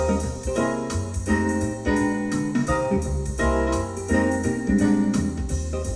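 A General Music WK-4plus home keyboard plays its third intro style, a full auto-accompaniment with bass, chords and drum pattern running at a steady groove, moderately loud with no talk.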